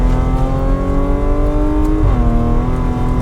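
A Stage 3 Audi S5 running on ethanol, tuned to 530 hp, accelerating hard, its loud engine tone climbing steadily before a brief dip as it shifts, then pulling again.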